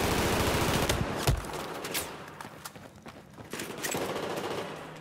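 Bursts of automatic gunfire and sharp single shots crackle through Battlefield 4's Operation Locker map, dense and fairly loud at first, then thinning into scattered rattling shots and clatter with no speech.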